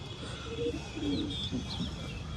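Pigeons in a loft give soft, low coos a few times against a steady background hum, faint and close together.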